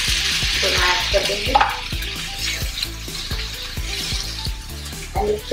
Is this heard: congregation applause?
no